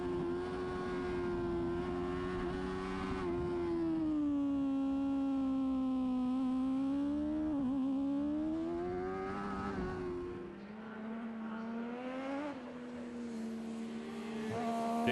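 Racing motorcycles at Aberdare Park during the Welsh Open final, a continuous high engine whine rising and falling as bikes pass at a moderate distance, fading away near the end.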